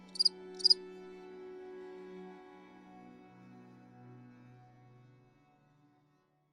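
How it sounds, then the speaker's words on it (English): A cricket chirps outside a window in a horror narration: two short, shrill chirps right at the start, then only a soft low hum fading to silence. "I heard a cricket outside the window."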